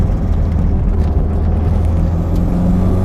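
A Toyota MR2 Turbo accelerating on a winding road, heard from inside as a steady loud low engine drone with road noise, continuous and even throughout.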